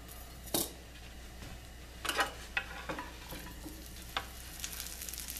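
Broccoli and black sesame seeds sizzling in olive oil over a high flame, a soft steady hiss with a few sharp clinks and scrapes of stirring, close and moderately quiet, no voices.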